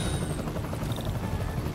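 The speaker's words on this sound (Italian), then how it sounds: "Devo bloccare i motori dell'elicottero!" Steady helicopter rotor thrum in the video game Spider-Man fills the whole moment, a dense low chop that stays loud and constant throughout.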